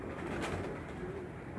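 Pigeons coo on a rooftop, a soft continuous murmur of several birds close by, with no talking over them.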